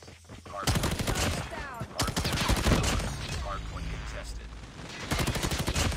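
A light machine gun fires in long, rapid sustained bursts during a ranked online shooter match, loud and close, with short pauses between bursts and game voice chatter underneath.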